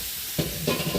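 Food fries on a hot tawa griddle: a short burst of crackling sizzle and stirring scrapes, close and brief.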